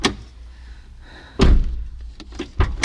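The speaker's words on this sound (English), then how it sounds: "Close and open driver door twice." A Toyota Scion driver door slams shut with a heavy thunk, then clicks and thumps again as it is opened and closed, loud and close with no talking.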